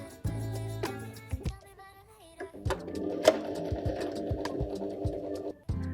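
A sewing machine runs in short bursts and then a longer steady whir as it stitches the back seam of a dress, with a few clicks between runs.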